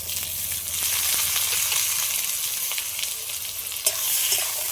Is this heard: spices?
yes